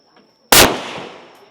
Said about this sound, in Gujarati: એમાં ઓરિજિનલ બંદૂક છે આવી જ ફૂટે